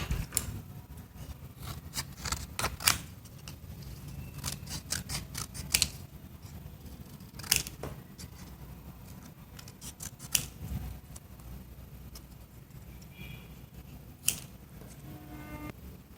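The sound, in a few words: scissors cutting paper for mini calendar craft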